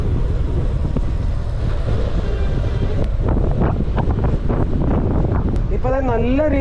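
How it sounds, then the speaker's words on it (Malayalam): A strong headwind on a ride along Munnar Gap Road roars and buffets steadily against the microphone for the whole stretch, loud and close, with a person talking over it. "അയ്യോ കാറ്റ് ഒരു രക്ഷയില്ല കേട്ടോ ഓപ്പോസിറ്റ് അടിക്കുക"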